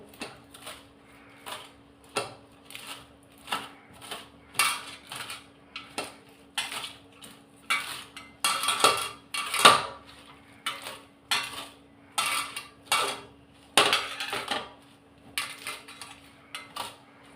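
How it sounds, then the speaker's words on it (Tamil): Ponnanganni greens are chopped small with a knife on a board for a spicy kara kuzhambu, making repeated crisp knife taps in a steady rhythm, close and clear with no talking over them. "சும்மா சின்ன சின்னதாக நம்ம அரிஞ்சிப்போம்."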